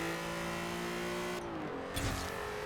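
A revving VR6 engine in a Volkswagen Golf R32 in Forza Horizon 4 drones steadily, its pitch shifting and dipping partway through before climbing again, loud and close with a synthetic, game-like tone.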